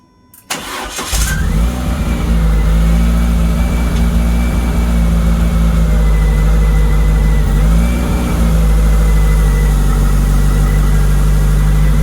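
A project car's engine, Project Baguette 6.9, starts with a sharp catch after a brief quiet moment, then runs loud and steady in gear. It holds a constant low drone with a slight dip in pitch partway through, with no voices.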